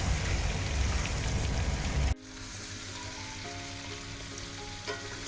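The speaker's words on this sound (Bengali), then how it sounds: "এবার আমি এগুলোকে 2-3 মিনিট ভাজা ভাজা করে নেব, পেঁপে আর আলু।" Papaya and potato pieces fry in a pan with a little turmeric, giving a steady, close sizzle. It sounds dense and loud at first, then settles into a lighter, continuous crackle with a few faint clinks.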